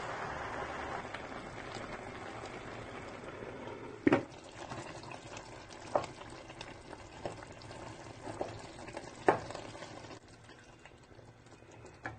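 Spinach sizzles and hisses in hot oil in a pot, a steady crackle broken by a few sharp pops and clinks.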